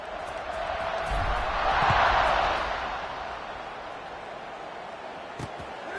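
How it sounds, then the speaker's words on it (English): Crowd noise in a college football stadium at Oregon vs Penn State swells to a loud buzzing roar after a score, then settles into a steady broad murmur, with no clear speech. "this crowd is buzzing after that last score"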